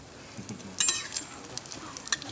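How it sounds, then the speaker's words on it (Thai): A Thai omelette with curry paste fries in a pan. A spatula scrapes and taps against the pan in short bursts over a quiet, steady sizzle. "พอข้างล่างมันสุกขึ้นหน่อยแล้วเราก็จะใช้ตะหลิวนะครับตวันขึ้นมา"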